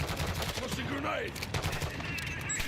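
Rapid gunfire from the Black Ops 6 video game, a dense burst of shots close and loud throughout, mixed with game noise and faint talk.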